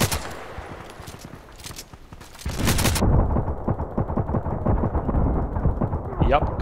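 Machine gun fire in the online shooter Contract Wars, scattered shots at first, then a heavy, rapid automatic stream that rattles on continuously, with a voice talking over the gameplay.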